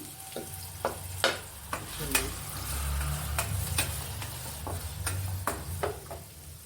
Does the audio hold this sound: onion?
yes